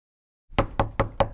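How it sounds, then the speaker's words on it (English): Four sharp, evenly spaced knocks on a wooden door, loud and close after a moment of silence, as a wolf knocks in an animated children's story. "The wolf knocked at the door."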